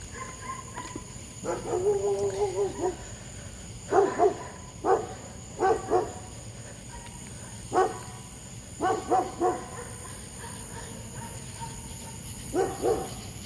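Dogs behind fences bark in short, separate bursts and a few longer yapping runs, moderately close over a steady low hum and faint high whine.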